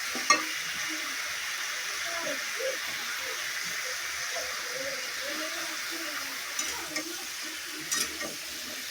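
Potatoes and spices are stir-fried in a pan for a pabda fish curry with pointed gourd and eggplant, a low steady sizzle with a few utensil knocks under faint talking.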